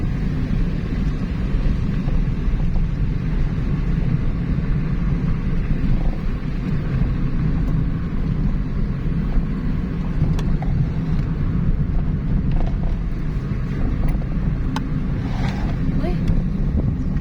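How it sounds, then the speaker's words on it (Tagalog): Wind gusts on a mountain road between Bongabon and Cabanatuan City in Nueva Ecija, Philippines, making a steady, loud low rumble as it buffets the microphone throughout, with faint voices now and then. "Pero mahangin, guys, dito sa taas ng bundok."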